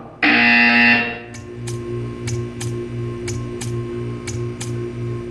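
A loud buzzer sounds in the video game Portal 2, a sustained harsh tone lasting about a second, followed by a steady series of evenly spaced ticks over a low pulsing hum.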